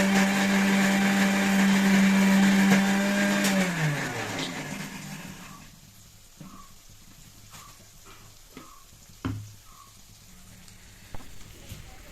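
A mixer grinder whirs loudly while grinding fried masala into a fine paste, then winds down and stops after about four seconds, leaving quiet kitchen clinks and knocks.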